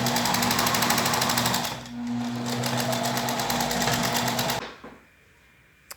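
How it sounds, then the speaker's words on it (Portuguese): A sewing machine stitches bias binding onto fabric for a retro blouse, running loud and steady with a close, rapid mechanical chatter for about four and a half seconds, then stopping into near silence. "Passa a primeira costura, depois vira ele pro avesso, passa a segunda costura"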